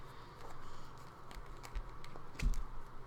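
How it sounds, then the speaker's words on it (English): Tarot cards being shuffled by hand, a stiff, awkward deck giving a run of soft riffling, tapping patter at close range with no talk. "These cards are so awkward to shuffle."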